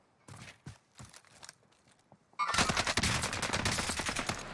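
Gunfire from the video game Warzone: a few separate shots and footstep-like thuds, then a sustained rapid burst of automatic fire that stays loud through the rest of the clip.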